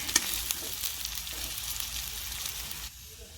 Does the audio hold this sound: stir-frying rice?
yes